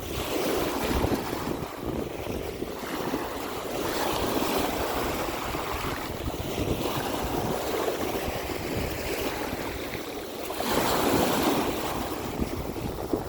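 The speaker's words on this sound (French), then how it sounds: "Le son des vagues, c'est comme écouter un mantra." Waves surge and wash along a beach on the north shore, with strong wind buffeting the microphone and swells rising and falling over a constant roar, no voices.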